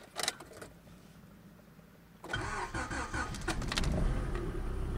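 Car engine cold-starting on a snowy day, a brief starter crank followed by the engine catching and settling into a steady, rising idle that stays fairly loud and close.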